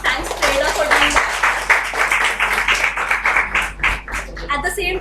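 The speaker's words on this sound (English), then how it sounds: "she definitely needs an applause for that" Participants in an online parenting session clap together in a scattered round of applause, close and uneven, with a voice briefly speaking over the clapping.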